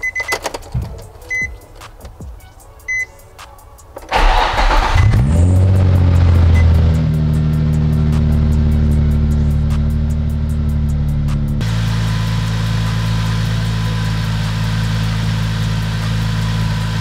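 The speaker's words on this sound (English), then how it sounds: "we should turn it on and let it idle for a bit" A Nissan 350Z engine cranks over after some quiet clicking, catches and settles into a loud, steady idle close by, with a shift in the idle note partway through.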